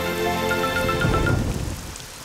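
Cartoon rain falling, a bright, dense patter of drops over a backing of sustained tones that fades and thins toward the end, with no voices.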